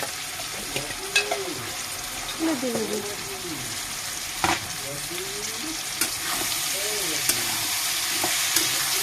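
A vegetable curry with mixed vegetables being stirred in a pan, oil sizzling and frying steadily while a spoon scrapes and clinks in several separate strokes, close and fairly quiet.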